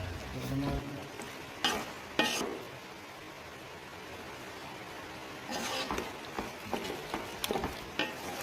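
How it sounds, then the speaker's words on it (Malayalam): Macaroni and masala are stirred in a sizzling frying pan, with scraping spoon strokes at the start and in bursts near the end over a steady frying hiss, close by and without talk. "നന്നായിട്ട് ഇളക്കിയെടുക്കണേ, എല്ലാത്തിലേക്കും മസാല എത്തുന്ന തോതിൽ."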